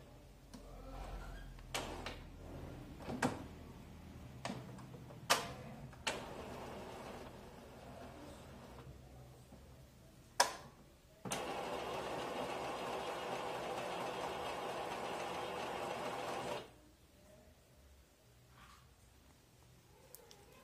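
An Epson L396 ink tank printer running its first ink fill: scattered mechanical clicks and knocks, then a steady whirring pump drone for several seconds that stops abruptly, quiet and close indoors.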